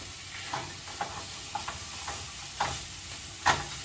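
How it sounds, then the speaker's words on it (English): Bell pepper and serrano pepper cook together in a pan, giving a faint, steady sizzle broken by several light scraping knocks from stirring. "I like to cook the bell pepper and the serrano pepper together"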